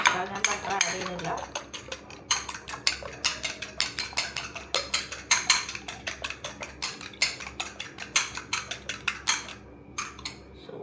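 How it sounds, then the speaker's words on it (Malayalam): A fork beats eggs in a bowl with quick, rhythmic, close clicking taps against the sides. The strokes run in fast bursts with brief pauses for about ten seconds. "ഒരു ഫോക്ക് എടുത്തിട്ട് നമുക്കൊന്ന് ജസ്റ്റ് ബീറ്റ് ചെയ്ത് കൊടുക്കാം"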